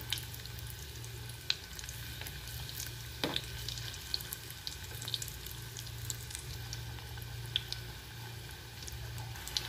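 Leftover masala snack frying in a pan with a steady low sizzle, soft bubbling and occasional light stirring scrapes and clicks, close and continuous throughout.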